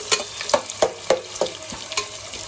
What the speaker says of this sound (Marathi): मस्त आता आपण इथं ऑनियन तेलामध्ये टाकले